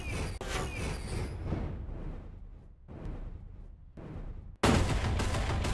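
Gunfire in GTA Dominicano, a Dominican take on the GTA game: rough, booming shots and bursts echo through a street scene, then a sudden loud, sustained volley of blasts near the end.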